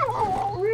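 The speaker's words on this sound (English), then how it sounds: "I do hear barking." A dog in the survival horror game Darkwood gives a drawn-out, wavering bark that bends toward a howl, loud and continuous for under a second, with no other sounds.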